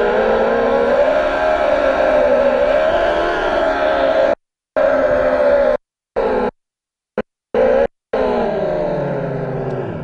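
A go-kart engine at full throttle on the CPI Makassar track gives a loud, close, droning whine that rises and dips in pitch. The sound cuts out abruptly several times.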